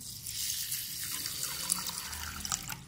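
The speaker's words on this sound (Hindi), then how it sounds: "पानी डालेंगे इसमें।" Tap water runs and trickles steadily into a bowl of about 150 grams of rice being soaked for kheer, a close, moderately quiet flow with small splashes and no speech.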